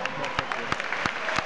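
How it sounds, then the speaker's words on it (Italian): Brief burst of audience applause for Tommaso at a hip hop forum in Assago, Milan, a crowd clapping steadily under a voice speaking. "Un bel applauso a Tommaso."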